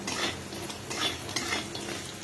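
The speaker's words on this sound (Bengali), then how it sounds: "আমি একটু বড়ি ভেজে নিচ্ছি বড়িটাকে একটু লাল লাল করে ভেজে নিচ্ছি" Lentil dumplings (bori) frying in oil in a wok, a steady close sizzle with stirring scrapes and light utensil clinks throughout, no voices.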